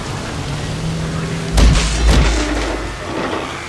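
A Ceratosaurus in a Jurassic-themed park building game slams against its exhibit trying to break out, producing two heavy, deep booming thuds about half a second apart over a steady ambient hiss.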